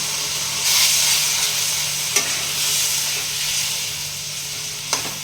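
Tomato spice masala for a Bengali rohu fish and potato curry fries in a kadai with a steady loud sizzling hiss. Two sharp taps of the stirring spoon break through, and no one speaks.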